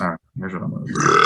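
A short voiced burp bursts out, followed after a brief gap by a person talking.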